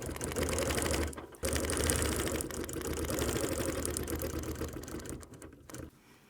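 Sewing machine stitching a clamshell quilting pattern on a spring wall hanging, a fast steady mechanical whir with brief pauses between stitched runs, close and fairly quiet.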